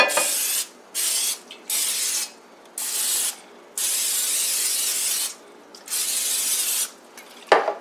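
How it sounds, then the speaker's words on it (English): A can of cooking spray hisses onto a pan in a series of about seven sharp, close bursts, some short and one long, separated by brief silences. "the first thing I want to do is spray our pan"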